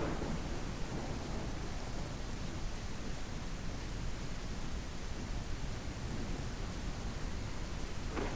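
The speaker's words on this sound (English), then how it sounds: "I'm ready for this storm to be over though." A thunderstorm with steady rain in a zombie survival video game, heard as a constant, dense broadband wash of rainfall and rumble that holds evenly throughout with no voices.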